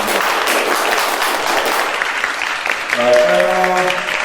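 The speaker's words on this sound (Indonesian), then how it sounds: "Berikan tepuk tangan semua." A crowd applauds with steady clapping that carries on, then begins to fade as a voice starts up over it.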